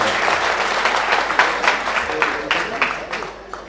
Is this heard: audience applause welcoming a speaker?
yes